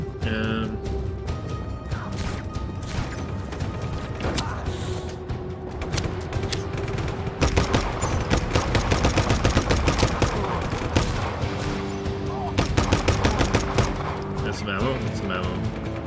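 Rapid gunfire and bursts of automatic weapon fire in the Just Cause video game, with crashes and mechanical clatter, sustained and loud throughout amid game effects while a player talks over the action.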